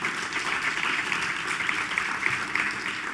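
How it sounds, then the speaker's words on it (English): Steady audience applause fills an awards ceremony hall, a dense, even wash of clapping from many hands that holds at a moderate level without pause. "Please applaud them all."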